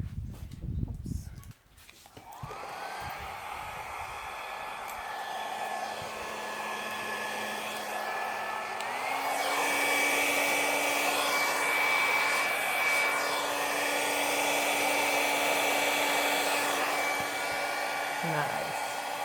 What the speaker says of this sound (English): I'm going to attempt to use the blow dryer on this